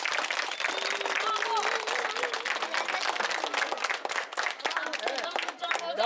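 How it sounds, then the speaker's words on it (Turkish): Dense, lively applause fills a primary school gathering in Malatya as the audience claps for the teachers, loud and continuous with a slight dip near the end. "Bu başarıda katkıları olan öğretmen arkadaşlar önce bir alkışlayalım"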